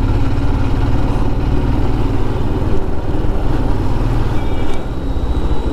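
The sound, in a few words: Royal Enfield Himalayan motorcycle engine while riding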